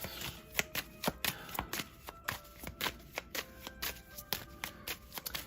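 A deck of tarot cards is shuffled by hand in quick repeated riffles and slaps, close and crisp, with an uneven rhythm of sharp card snaps.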